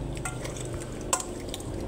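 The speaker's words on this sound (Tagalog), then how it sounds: "I-mix lang natin dyan guys habang hinahanda ko ang ating mga ingredients." Chicken adobo marinade with paprika being stirred in a bowl, a soft continuous scraping and sloshing with one sharper clink near the middle, close and fairly quiet, no talking.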